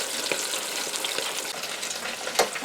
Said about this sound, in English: let's lower it into the hot oil. We're going to turn them over while it's cooking a little bit